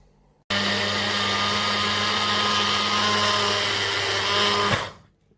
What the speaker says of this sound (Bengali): এখন আমি দেখাবো এখানে ব্লেন্ডারের মধ্যে কীভাবে পাউরুটিগুলো ব্রেড ক্রাম্বস করব